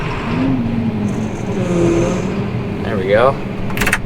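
A farm tractor's engine turns over and settles into a loud, steady idle on a chilly, wet harvest morning, with someone speaking briefly over the rumble.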